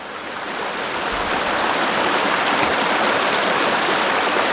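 Clear stream water flowing steadily on a trail, a close, continuous rushing wash with no voices.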